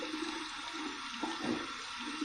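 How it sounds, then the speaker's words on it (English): Cold water runs from a tap over an alum block after a head shave, a steady soft rushing stream with small splashes, fairly quiet and continuous. "I'm going to run under some cold water"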